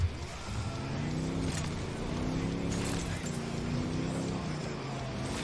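Car engine driving and revving in the Ghost Recon Wildlands video game, a steady continuous engine drone with shifting pitch that runs throughout, with a voice talking briefly over it.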